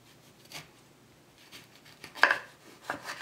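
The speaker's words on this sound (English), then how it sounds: "we're going to cut it in half" A knife slices a lemon in half on a cutting board for a cucumber, celery and green apple salad, giving a few soft, separate cutting thuds with one sharper knock near the end, close up and alone.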